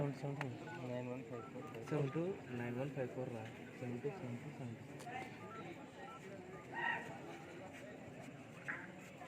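A mobile phone keypad tapped out as a number is dialed at a village Kabaddi match between two teams, with short beeping tones under a crowded announcer's voice and loud crowd chatter.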